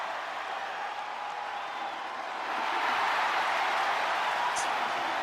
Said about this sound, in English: You can hear the pop the crowd have for her.